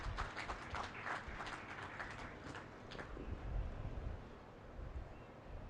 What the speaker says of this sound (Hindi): नड्डा जी, जोरदार तालियों से स्वागत